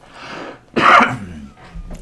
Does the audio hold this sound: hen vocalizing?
no